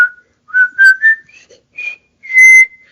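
A person whistles the theme from the 1957 film The Bridge on the River Kwai, several clear bright phrases of the march tune with short pauses between notes, close and alone without talk.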